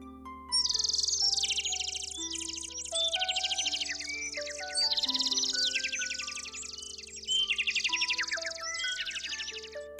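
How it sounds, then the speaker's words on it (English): A tiny blue songbird sings clear, sweet, rapidly repeating chirping phrases in bursts beneath a blooming bush in a calm bedtime-story setting, close and bright over soft, steady low tones, with no talking. "she heard a clear, sweet note. There, beneath a blooming bush, was a tiny blue songbird"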